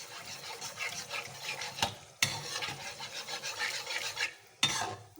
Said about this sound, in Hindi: अब इसको हिला देंगे